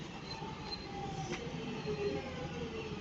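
A train passes through Stockport station. The rumble of rolling stock fills the clip, with a brief wheel squeal in the middle and no talk over it.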